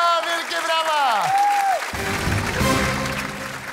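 Studio audience applause on a Polish TV talent show, a dense wash of clapping that swells after a sweeping synth sound effect and continues steadily through the end.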